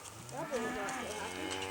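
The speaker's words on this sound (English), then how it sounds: "These are our Dexter cattle." A Dexter cow, mother of a newborn heifer calf, gives a short, low, tonal moo on a farm, close to the recorder and alone for under two seconds.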